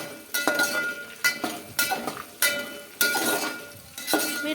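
A spoon stirring mustard seeds in a metal pan while cooking upma, clinking against the pan about seven times in an uneven but steady rhythm, close and clear, with scraping between strikes.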